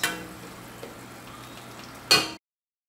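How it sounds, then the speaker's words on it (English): Kale and other greens sizzle steadily in a pan, with a light clink near the start and a brief louder scrape of tongs stirring just before it cuts off. "we'll take our tongs and mix it around. And we're just going to wait for those to become translucent."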